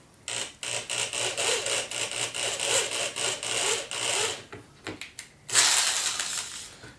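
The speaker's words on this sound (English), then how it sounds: "I'm going to drill a small pilot hole" A small drill bit bores a pilot hole through acrylic on an arcade control panel, a steady close whirring grind with a rhythmic pulse, stopping briefly before a louder final burst.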